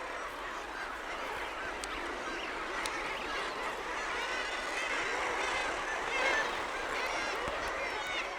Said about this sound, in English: The most common breeding bird on this cliff is the guillemot.